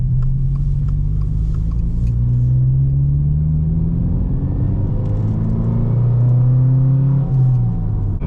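A Subaru WRX with a manual gearbox pulls along in second gear after a plain clutch shift, a loud steady engine rumble with rising tones as it accelerates.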